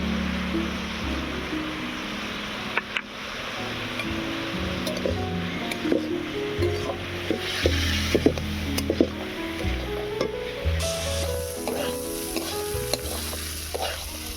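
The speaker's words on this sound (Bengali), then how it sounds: "বিটটা প্রায় ভাজা ভাজা হয়ে এসছে" Grated beetroot fries in a pan with salt, chili powder and turmeric: a steady, close sizzle with scraping stirs and occasional clinks of a spatula against the pan.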